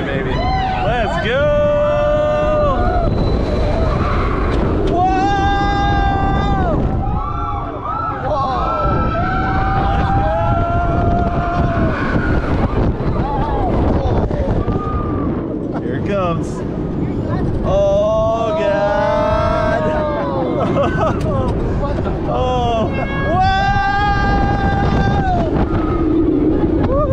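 Tigress roller coaster ride at Busch Gardens Tampa, with riders screaming and shouting over loud rushing wind buffeting the microphone as the train races along the track.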